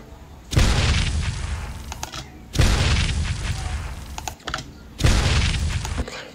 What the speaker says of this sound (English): So we get that extra whoosh of what's it called, of shockwave.